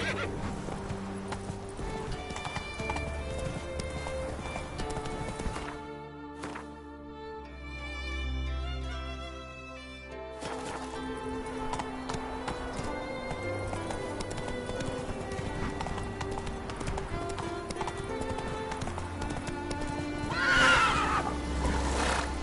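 Roach, a horse in The Witcher 3, neighing with clip-clop hooves under a steady music score, a long whinny rising near the end.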